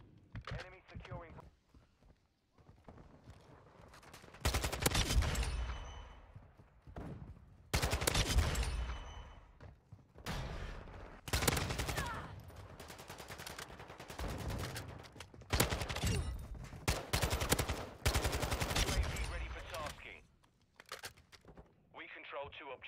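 Bursts of automatic gunfire in a Modern Warfare 2 multiplayer match, loud and repeated in rapid volleys with short pauses, mixed with footsteps, game voice callouts and a player talking.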